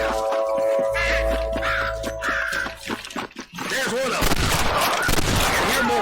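Red Dead Redemption gunfire crackles in rapid bursts as snipers fire, amid crowing bird calls and busy game sounds, with a voice partly overlapping.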